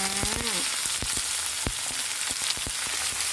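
Kale stir-fried with canned fish in a small wok gives a loud, steady sizzle broken by repeated scraping and clinking as the spatula tosses the greens, with no talking.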